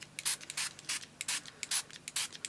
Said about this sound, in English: so let's just spray the envelopes